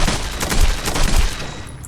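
Rapid gunfire from the tactical shooter game Eximius: Seize the Frontline, loud bursts of repeated shots packed close together across the whole span, with no talk over them.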